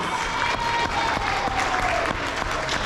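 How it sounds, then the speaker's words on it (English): Sustained applause from an elementary school awards audience, dense and steady clapping throughout, with a faint tone drifting underneath. "give these On the Right Track winners a round of applause"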